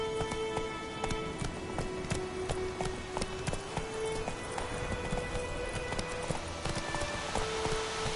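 Horse galloping in The Witcher 3, a steady, fast clip-clop of hooves running continuously at close range over a layer of background music tones, with no voices.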